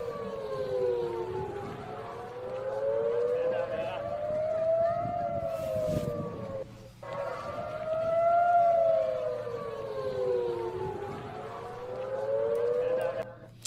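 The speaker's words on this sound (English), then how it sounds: "sirens wailed across the city, warning of the incoming fire" Air raid sirens warning of incoming rocket fire wail across Tel Aviv, two loud rising-and-falling cycles sweeping slowly over a steady background drone with a brief gap midway.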